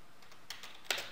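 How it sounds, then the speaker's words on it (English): A few soft, close clicks of keys on a computer keyboard as a command is typed into a terminal, quiet and sparse with a louder tap near the end. "let me go ahead and type apt get"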